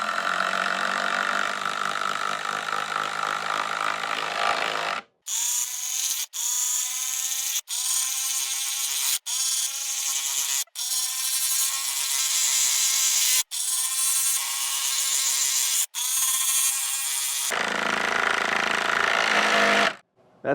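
Hyper Tough 20 volt brushless cordless impact driver sinking lag screws, rapid rattling hammer bursts repeated about eight times in quick succession, each separated by a short silent pause, loud and close.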